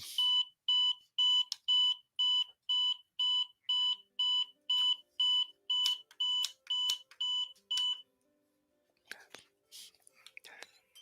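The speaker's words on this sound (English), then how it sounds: "I'm pushing buttons trying to get that alarm go off" An alarm beeps in a rapid, regular series of about fifteen short, bright tones, fairly close, then stops, leaving soft rustling and faint whispering.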